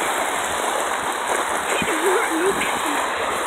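Water sprays onto a backyard water slide with a steady hiss, while children and an adult shout and talk over it.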